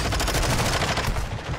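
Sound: gunfire in the video game Warzone 2.0

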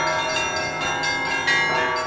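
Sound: church bells ringing

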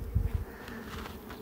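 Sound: honeybees buzzing at an open hive

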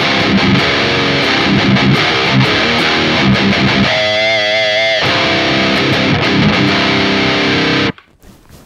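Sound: electric guitar through metal amp plugin

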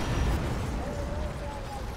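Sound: explosion in the video game Command & Conquer 3: Kane's Wrath

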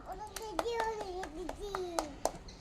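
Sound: child clapping hands

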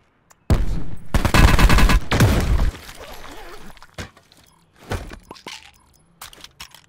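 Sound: gunfire in a video game

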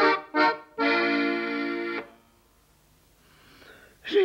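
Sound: heavy breathing, out of breath

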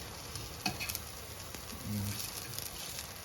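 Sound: potato pancakes (deruny) frying in oil

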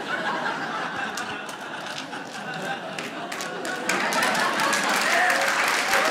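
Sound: lone audience member applauding

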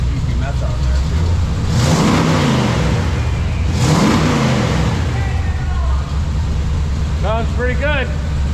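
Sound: tow truck engine revving after EFI upgrade

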